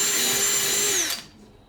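A power drill fitted with a brush attachment whirs steadily at high speed against bamboo, then winds down and stops after about a second, close and alone.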